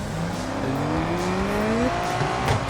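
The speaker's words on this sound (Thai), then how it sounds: "เบิ้ลนิดนึง เสียงใช้ได้ เสียงเอาเรื่อง" A Nissan Skyline GT-R engine in the racing game Need for Speed No Limits revs, with several rising, overlapping engine tones climbing steadily over a dense, continuous roar and faint tire noise.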